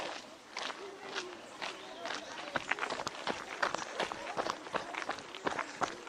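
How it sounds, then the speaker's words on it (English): Many small feet in sneakers patter quickly over gravel in a continuous crunching rush, with children's voices mixed in nearby. "They make a continuous gravelly noise from their sneakers"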